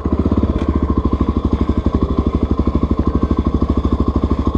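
A dual sport motorcycle engine runs just after a kick start in Death Valley, its single-cylinder thump pulsing in a fast, steady, even rhythm, close and loud.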